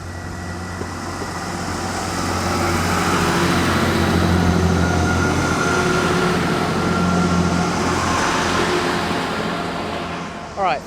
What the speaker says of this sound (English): the second northbound train of the day has just left